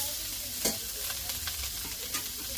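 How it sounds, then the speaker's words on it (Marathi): Ground masala is roasted and stirred in an oil pan for a village-style fish curry, giving a steady close sizzle broken by scraping strokes of the spoon. "आता मस्तपैकी मसाला भाजून घ्यायचा बघा, असा परतून मस्त घ्या"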